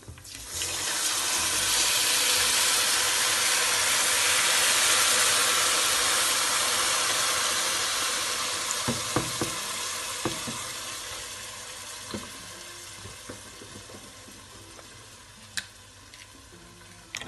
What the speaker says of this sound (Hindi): अब मैं इसमें दूध डालती हूँ।